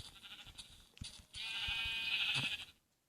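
A sheep bleats in the Minecraft video game, one drawn-out bleat following a few soft thumps of the player hitting it, clear and close.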